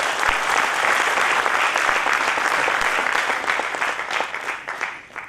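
Warm, sustained applause from an audience at a Diwali business gathering, loud and continuous with many people clapping at once, slowly thinning and fading toward the end.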